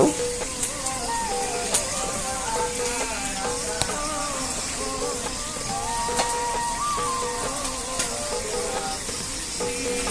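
Jolokia chillies frying in oil in a home kitchen, a steady close sizzle and hiss that runs throughout, with faint clatter and background voices underneath.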